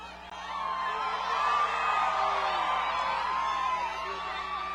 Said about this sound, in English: What a fantastic crowd.